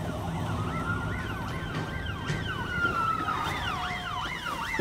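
Several police car and ambulance sirens wail together in overlapping rising and falling tones, moderately loud and a little distant over traffic noise.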